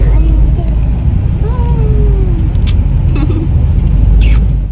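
A car drives through traffic on the way to an airport terminal, giving a loud, steady low engine and road rumble from inside the cabin, with faint clicks and a passing hiss over it.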